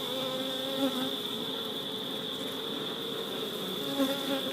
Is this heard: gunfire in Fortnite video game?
no